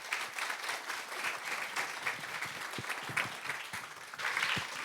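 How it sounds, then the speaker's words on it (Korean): A church congregation claps in welcome as a speaker comes forward, a soft, steady patter of applause from many hands across the room, fairly distant and even throughout. "큰 박수로."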